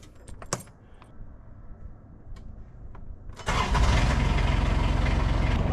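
An old Kawasaki utility vehicle engine cranks and catches midway, after a few keys jangling in the quiet, then settles into a loud, steady running roar close by.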